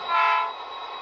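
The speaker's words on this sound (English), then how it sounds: "Short horn." Short horn on an Athearn RTR SD40 model diesel locomotive with Economi sound and DCC: one quick multi-tone toot of about half a second, close, then the steady engine hum continues.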